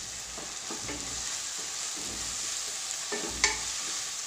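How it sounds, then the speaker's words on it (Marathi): Cauliflower Manchurian is stir-fried with tomato and soy sauces on a low flame, a soft continuous sizzle under a steady scraping of the spatula, with a sharper clack near the end. "सर्व सॉसेस टाकल्यानंतर लो फ्लेमवर हे छान परतून घ्यायचे आहे"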